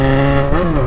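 Yamaha XJ6 motorcycle engine revving close by, a steady loud harmonic drone that bends in pitch midway through the short burst.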